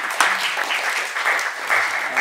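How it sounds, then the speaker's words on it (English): Seminar audience at a talk about NATO in Finland claps briefly, a moderate spatter of applause from a modest room with a few voices mixed in over the clapping. "let's applaud that"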